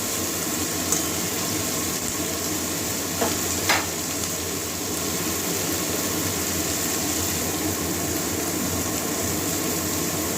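Capsicum and carrot fry with salt in a pan for pasta, making a continuous close sizzle and hiss with a couple of brief clicks from stirring.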